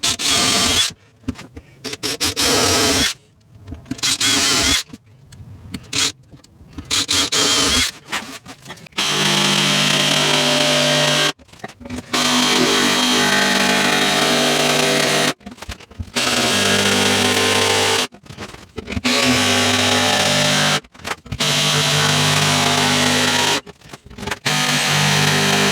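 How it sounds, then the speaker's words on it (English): A DeWalt cordless router cuts a rebate in wood in bursts of loud, close, steady motor whine with a rough cutting tone. The bursts are broken by short pauses and there is no talk. "I'm using my new DeWalt cordless router to do this rebate."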